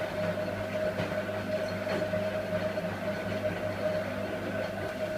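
A Miele W562 washing machine in its final spin gives a steady, moderately quiet whirring hum with a high whine and a faint rhythmic rumble.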